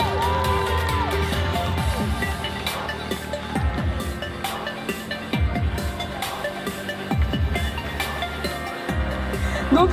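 A festival fashion show audience claps, whoops and cheers during a Harajuku and alternative style parade. Loud, busy crowd noise runs throughout with sharp yells and shouts rising over it and occasional bangs.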